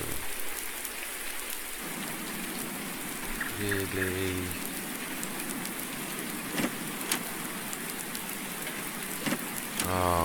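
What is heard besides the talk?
rain sound in video game Farming Simulator 19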